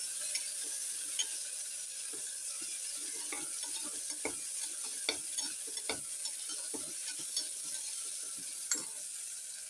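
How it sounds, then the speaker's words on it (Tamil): Tomatoes sautéed and stirred in a pan for a kottai kuzhambu, with a steady low sizzle and repeated scraping spoon strokes and clinks across the pan, close and alone without talk. "தக்காளியை போட்டுடுறேன். இந்த தக்காளியை நல்லா வதக்கிடுவோம்."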